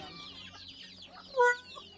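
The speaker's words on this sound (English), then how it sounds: "That is too many chickens." A chicken gives one brief, close cluck over a low background hiss and rustle, among many chickens at a cluttered mobile-home property.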